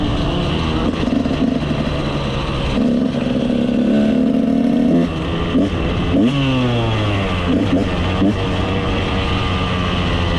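A motorcycle engine warms up on a hot day while being ridden, rising and falling revs with gear-change sweeps, loud and close throughout.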